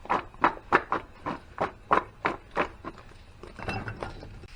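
Apples and butter stirred in a cast iron pan make about a dozen evenly spaced scraping clinks, close and fairly quiet, that fade into softer rustling toward the end.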